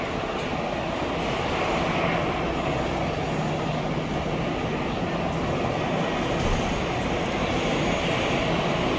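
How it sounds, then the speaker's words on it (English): Broad, steady jet-engine roar of an airliner taxiing after landing at Chennai airport, heard from an outdoor spotting point; a continuous dense rumble and whoosh with no breaks, loud and unchanging throughout. "After landing safely at Chennai."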